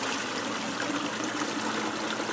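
Water pours out of a Ford Model A radiator into a bucket, a steady, close, full-bodied gush of liquid with no talk over it.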